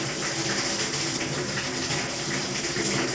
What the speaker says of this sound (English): hopefully this should squirt water with a lot of pressure